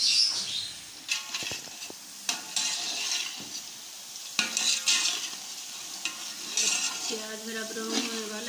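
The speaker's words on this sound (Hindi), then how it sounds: "प्याज मेरा ब्राउन होने वाला है, मैं ज़्यादा ब्राउन नहीं करती, हल्का ब्राउन करूँगी।" Onions fry in a pan while a spoon stirs them, giving a gentle sizzle under repeated scraping and clinking against the pan, close and moderately quiet.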